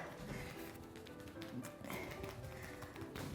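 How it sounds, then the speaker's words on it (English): Rapid percussion strokes from a Swedish massage, karate-chop hand tapping on the body, patter in a dense steady rhythm throughout at a low level. "And then there's percussion, which everybody knows. It's like a karate chop,"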